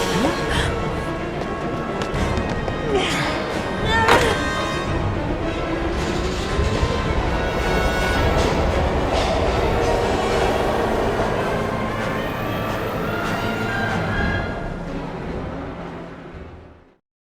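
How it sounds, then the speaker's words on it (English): A train rumbles along steadily in the video game Heavy Rain, a continuous rail roar with clacking and scattered metallic hits, loud throughout before fading out at the end. "We've gotta get on that train, Ethan!"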